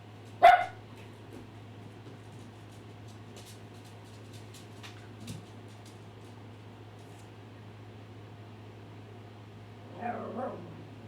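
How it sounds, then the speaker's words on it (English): A pet dog gives one sharp bark near the start and a softer, rougher yip or whine near the end, with long quiet stretches between over a constant low background hum. "Please don't bark at me, bud."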